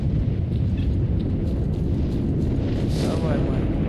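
A blowout emission storm in S.T.A.L.K.E.R.: Clear Sky, a dense, continuous deep rumble that roars loudly and steadily throughout, with faint voice-like traces overhead.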